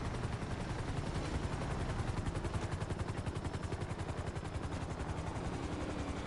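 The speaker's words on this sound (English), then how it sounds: "helicopter right here in the middle of the road" Helicopter in the GTA 5 video game parked in the middle of a road, its rotor giving a loud, steady rapid chopping pulse that continues without a break and with no talk.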